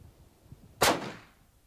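A Traditions NitroFire muzzleloader rifle fires a single sharp, loud shot outdoors, with a broadband crack followed by a short fading echo and quiet surroundings before it.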